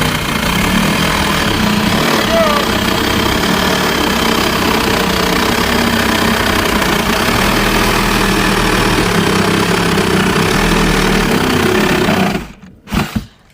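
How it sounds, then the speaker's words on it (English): A reciprocating saw cuts through old, heavily nailed plywood on a shed, a loud, steady, close buzzing drone that runs almost unbroken before cutting off abruptly near the end. "I think I'm gonna get out the Sawzall because this is really nailed on and it's old plywood."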